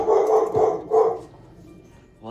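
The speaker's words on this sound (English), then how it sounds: "What are you barking at?" A dog barks three times in quick succession at moderate distance inside a home kitchen, then falls quiet as a faint voice begins at the end.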